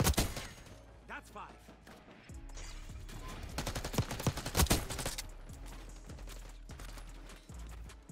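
Rapid gunfire bursts in the Black Ops 6 video game, dense crackling volleys and single shots over in-game noise, with a player talking intermittently.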